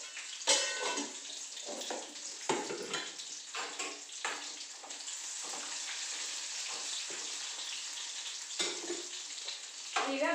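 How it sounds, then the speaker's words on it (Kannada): Garlic and cumin frying in hot oil for a village-style Indian tempering, giving a steady close sizzle with brief louder crackles as the pan is stirred, and no talking. "ಈಗ ಎಣ್ಣೆ ಕಲಸಿ ಬೆಳ್ಳುಳ್ಳಿ ಹಾಕಿ ನೋಡ್ರಿ."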